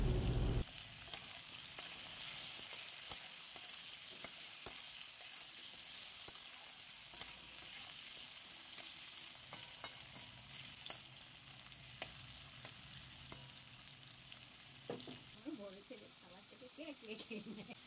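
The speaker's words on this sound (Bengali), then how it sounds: "তারপর ছোট ছোট ডুমো ডুমো করে কেটে রাখা আলুর টুকরোগুলো তেলের মধ্যে দিয়ে দেওয়া হলো।" Diced potato pieces frying in hot oil with salt and turmeric give a steady close sizzle, with faint stirring scrapes and clicks throughout and a brief louder burst near the end.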